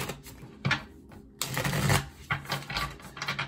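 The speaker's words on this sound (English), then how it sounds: "I love these cards. I love the way they shuffle." Tarot cards being shuffled by hand, a rapid papery riffling with clustered bursts and short pauses, close and moderately loud with no talking.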